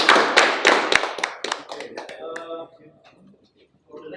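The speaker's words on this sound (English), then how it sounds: "Give a big applause to" Audience applause at a guest lecture at Universitas Islam Internasional Indonesia, a burst of loud clapping that thins into scattered claps and fades out after about three seconds.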